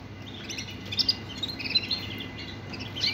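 A full-feathered yellow Shirazi canary sings close by in a rough, harsh voice, delivering bursts of bright chirps and trills that come and go over a quiet background.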